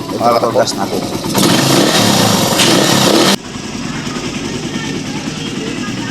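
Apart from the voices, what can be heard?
Suzuki Raider R150 carb motorcycle engine running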